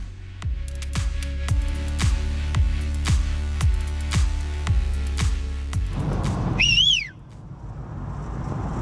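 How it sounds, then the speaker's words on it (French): A referee's whistle sounds loudly during a professional cycling stage race, preceded by a steady rhythmic series of regular thumping clicks. "Ça veut dire quoi ça quand tu siffles?"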